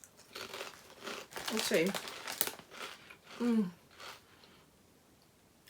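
Crunchy paprika-flavoured Tim's Cascade snack chips crunched up close, a few dry crackling bites and crinkles mixed with a person talking and reacting between them.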